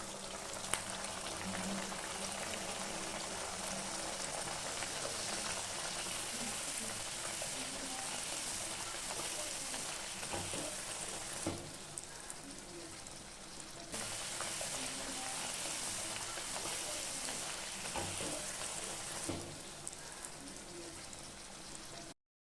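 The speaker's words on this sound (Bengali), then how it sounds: "তো এর পরপরই আমরা সবগুলো ভেজে নেব" Hing kachori deep-frying in hot oil, a steady dense crackling sizzle running continuously with occasional bubbling pops and brief dips in intensity, close and fairly loud, no talking.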